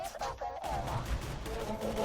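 Gunfire from the cowboy cannon in the video game Borderlands 2, a run of dense, rapid shots crackling continuously at close range with no talk over it.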